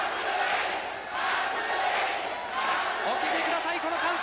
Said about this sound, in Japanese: お聞きください、この歓声。